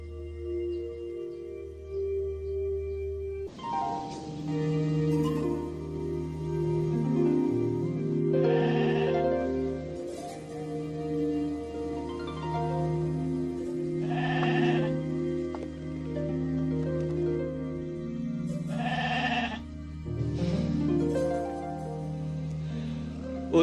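A goat bleats repeatedly in a scene from an old Indonesian film, several loud wavering bleats spaced a few seconds apart over a steady low musical drone.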